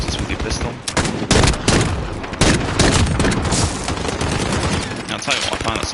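Pistol shots ring out in the first-person shooter Modern Warfare, a rapid loud string of cracks overlapping one another, with dense gunfire filling the whole stretch with almost no gaps.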